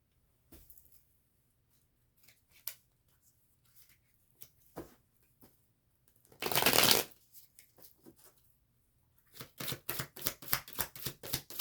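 A deck of Osho Zen Tarot cards is shuffled and riffled close by, with scattered soft card slides, one loud dense riffle burst in the middle and a quick run of rhythmic flicks at the end, no talking.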